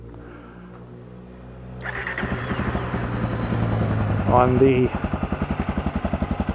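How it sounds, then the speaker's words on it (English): A Honda CRF250L with a modified exhaust starts after a short quiet stretch, then settles into a loud, close, rapidly pulsing single-cylinder idle with a brief blip of revs; someone speaks briefly over it. "I want to start it for you so you can hear the exhaust note"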